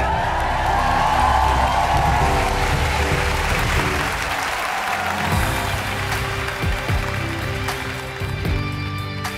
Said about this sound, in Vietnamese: Một tràng pháo tay nồng nhiệt nữa